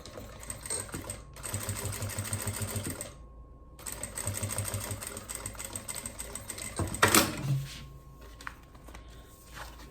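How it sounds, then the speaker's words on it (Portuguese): Sewing machine running in fast bursts while stitching the side seams of a fabric cosmetic pouch, with a short pause near the start and a sharp handling clatter toward the end. "Costurei aqui as duas laterais."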